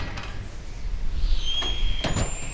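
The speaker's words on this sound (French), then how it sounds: "la porte est entr'ouverte et grince en raison du vent" A high, thin creak rises and holds as a door swings, with faint rattles over a steady low rumble of wind.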